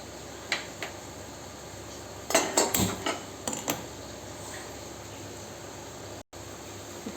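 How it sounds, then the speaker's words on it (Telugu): A metal cooking pot is set down on a kitchen stove, giving a few sharp clanks and clatters in quick succession mid-way, with faint ticks before and quiet room noise after. "ఇంకో పక్క ఇంకో గిన్నె పెట్టుకొని పొయ్యి వెలిగించుకుందామండి"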